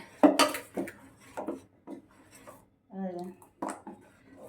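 Rice flour batter being stirred slowly in a pot, with a few clinks and scrapes of the utensil against the metal, close and moderately loud among quiet pauses.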